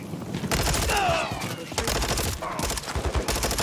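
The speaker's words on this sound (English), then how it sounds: "There's enemy fire." Heavy enemy gunfire in a Modern Warfare campaign mission comes as loud, overlapping volleys of rapid shots with short gaps between the bursts.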